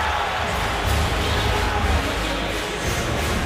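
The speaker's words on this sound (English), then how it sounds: "Crowd here is not happy about the way Hester elected to let that one bounce by him" Displeased crowd noise fills a football stadium in a Panthers at Falcons game after a punt is let bounce; a broad, steady roar with slight swells runs throughout the clip, with no clear voice on top.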